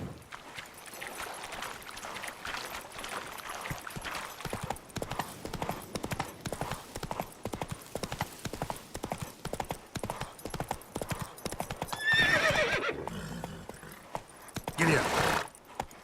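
A horse gallops in The Witcher 3: Wild Hunt with rapid, steady clip-clop hoofbeats that run throughout, close and clear, along with a brief whinny-like swell near the end.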